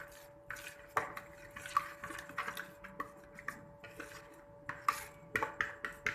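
A spoon stirs a yeast, salt and sugar mixture in a bowl, giving repeated light clinks and scrapes against the bowl in an uneven rhythm, close and fairly quiet.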